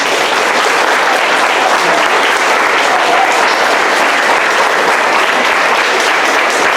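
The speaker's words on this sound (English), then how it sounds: "let's give them a big round of applause" Dense, steady audience applause at an honor roll ceremony, many hands clapping together in a continuous wash of sound that holds evenly loud throughout with no gaps.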